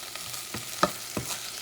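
Liquid goes into a pan of squid ink rice, producing a brief sizzle with a few stirring clicks and scrapes, close and moderately loud.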